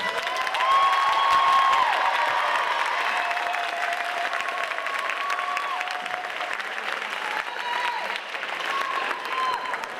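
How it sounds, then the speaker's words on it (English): An audience at an eighth-grade bridging ceremony applauds its graduates, loud sustained clapping and some cheering throughout, with tonal whistles or voices rising above the crowd. "applause for our graduates."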